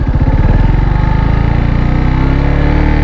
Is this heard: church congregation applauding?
no